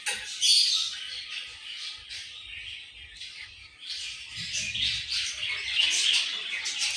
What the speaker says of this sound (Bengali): আমাদের পাখিগুলো কি করে দেখাচ্ছি